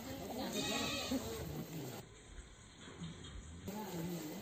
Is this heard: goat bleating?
yes